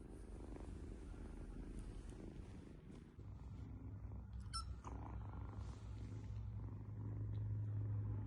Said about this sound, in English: Kitten purrs.